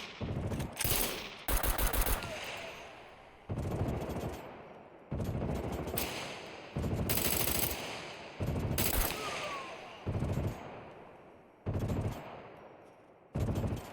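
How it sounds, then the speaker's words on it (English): Repeated loud bursts of automatic gunfire in SCUM come in separate volleys separated by short pauses, sharp and close, with no talking. "They must be shooting at me, right?"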